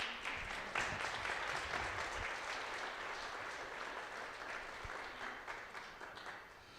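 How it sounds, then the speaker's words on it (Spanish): An audience at an Al-Anon symposium gives sustained applause, a steady wash of many hands clapping at moderate distance that fades slightly toward the end. "Un aplauso también para ella."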